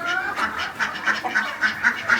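Ducklings kept among chickens and pigeons quack in a steady run of short, rhythmic calls, close and fairly loud.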